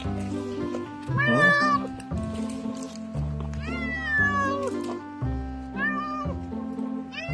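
A countryside cat meows repeatedly, three or four loud, drawn-out rising and falling cries close by, over a low background hum.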